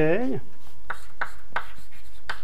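Writing on a board during a mathematics lecture: a brief voice at the start, then a few sharp, evenly spaced taps and strokes, close and distinct.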